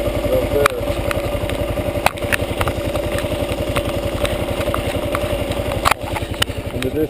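A motorbike engine idles nearby, with a steady, low, even pulsing throb throughout and a few brief knocks over it, on a motorbike trip to Alaska.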